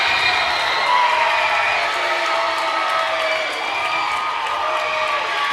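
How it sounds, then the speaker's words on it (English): A loud, sustained crowd roar with cheering and whoops fills a high school gym during a girls basketball senior night game, steady and dense throughout. "listen to this crowd"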